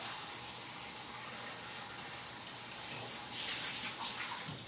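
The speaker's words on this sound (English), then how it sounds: "I'm just going to rinse it." Water runs steadily from a tap over a cast iron pan being rinsed, a faint, continuous hiss that grows a little brighter near the end.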